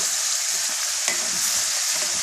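Potatoes, carrots and onion frying in a pot give a loud, continuous sizzle close by, with a brief scrape of stirring partway through and no talk.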